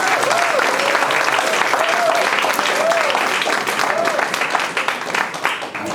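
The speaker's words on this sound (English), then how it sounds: "please join me in giving Sarai another round of applause" An audience applauds the emcee Sarai at a youth entrepreneurship challenge event, with dense, steady clapping filling the room throughout and a faint tonal sound recurring in the background.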